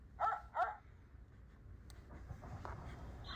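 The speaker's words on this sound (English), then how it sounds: "Dog." A dog gives two quick, sharp barks close by, followed by quieter low background noise.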